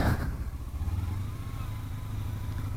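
Kawasaki Ninja 300 motorcycle pulling away in a very low first gear, a steady close engine drone with rising rev pitch lasting a few seconds, no talking over it.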